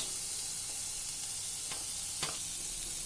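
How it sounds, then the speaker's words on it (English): Finely diced onion fries in a pan alongside garlic and chili, a soft, even sizzle with a couple of quick stirring clicks, fairly quiet and free of talk. "We'll also add 1 diced onion, chopped very fine, and we're going to saute it till it's translucent."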